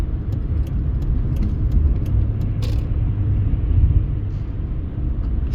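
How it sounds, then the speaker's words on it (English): Steady, loud road rumble from trucks and traffic merging onto a Las Vegas highway near Allegiant Stadium, with a continuous low engine drone and a few faint ticks over it. "Trucks entering highway"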